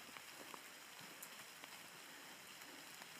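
Soft, steady patter of rain falling on surfaces outdoors, with faint scattered drips and no voices.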